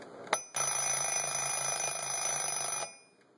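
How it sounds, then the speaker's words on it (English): A sharp click is followed by a vintage wartime alarm clock's bell ringing rapidly and steadily for about two seconds before stopping and fading out. "We'll try the alarm out now."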